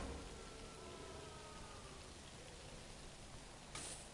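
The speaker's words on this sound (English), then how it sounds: "It's raining right now" Steady, faint hiss of rainfall in the video game Prison Architect with no breaks, a soft even wash of noise throughout and a brief higher tone near the end.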